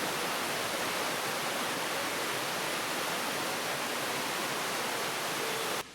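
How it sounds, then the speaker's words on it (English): Steady, broadband roar of a waterfall in Cuba heard up close, a constant rushing hiss with no breaks that cuts off abruptly at the very end. "we soon reached the waterfall"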